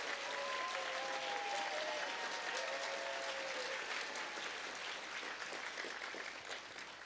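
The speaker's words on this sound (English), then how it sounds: "big round of applause for Summer Herrick" A sustained round of audience applause fills a hall at a puzzle-hunt wrap-up event, dense clapping holding steady and then slowly tapering, with a few faint cheers.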